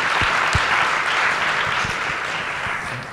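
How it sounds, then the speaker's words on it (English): Audience applause at a film screening and discussion, a dense, loud burst of clapping from a room of people that carries steadily through and eases slightly toward the end. "You should clap for this woman, Lynn."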